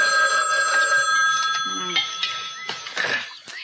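An indoor telephone ringing with a bright, sustained electronic bell tone, with voices talking in the room over it.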